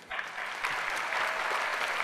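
An audience cheers and applauds, a sudden burst of dense clapping that rises quickly and holds steady and fairly loud for about two seconds with no talking.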